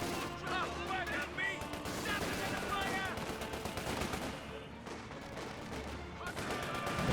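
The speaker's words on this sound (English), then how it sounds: "Someone's shooting us!" Dense gunfire rumbles through a Company of Heroes 2 battle, with rapid shots and explosions in a continuous wash and chatter in the background.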